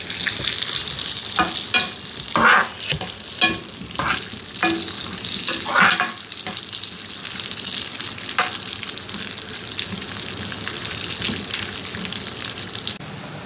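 Vermicelli kesari (semiya sweet) simmering in water in a pan on a medium flame gives a steady bubbling sizzle with scattered crackles and occasional stirring scrapes, close up and continuous without talk.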